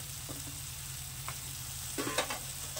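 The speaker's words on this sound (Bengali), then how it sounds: "মশলা কষানোর পর দিয়ে দিচ্ছি কেটে রাখা শিমগুলো।" Chopped flat beans fry in spiced oil for seem kalia, a soft steady sizzle with a few spoon scrapes and clinks near the end, quiet and close.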